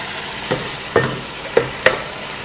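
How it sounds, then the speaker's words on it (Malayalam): Ground masala with onions and potatoes for a duck curry sizzles in a pan under a constant low hiss, as a spatula scrapes through it in four distinct strokes. "ഇതിലേക്ക് ഞാൻ മസാല ഇട്ടിട്ട് ഒന്ന് വഴറ്റാൻ വേണ്ടി പോവാണ്"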